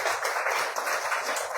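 An audience at a satsang gathering claps together in a brief, dense burst of steady applause, moderately loud and continuous with no distinct voices.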